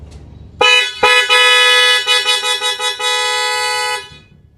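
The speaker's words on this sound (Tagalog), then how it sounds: "Yung loud horn niya mga sir, ito napakalakas." A loud aftermarket horn on a Yamaha NMAX scooter blares close up for about three seconds, with a steady tone that wavers and pulses briefly in the middle before cutting off.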